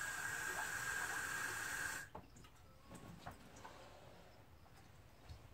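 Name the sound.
water being added to dilute copper nitric acid solution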